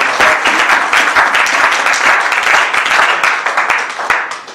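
Church congregation applauding and cheering for Jesus during a worship service, loud sustained clapping with a crowd roar that carries steadily through the whole stretch.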